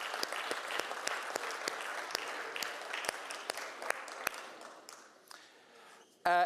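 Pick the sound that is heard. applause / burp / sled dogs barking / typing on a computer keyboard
applause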